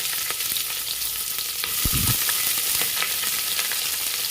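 Chopped onions frying in oil in a pan for vegetable biryani, a steady close sizzle with a brief louder burst of crackling as they go in, no talking.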